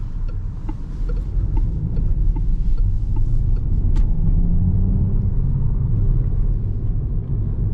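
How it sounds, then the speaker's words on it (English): Peugeot 208 GT 48V mild hybrid in sport mode accelerating under throttle at night, a steady low engine rumble and synthetic sport sound filling the cabin, loud and continuous with no talk. "So now when I push the throttle, you can hear more pronounced sporty sound"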